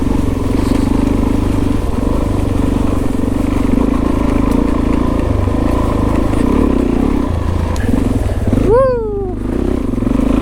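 A Suzuki DRZ400 dirt bike rides up a lakeside trail, its engine droning steadily and close throughout, with a brief whine or rev near the end.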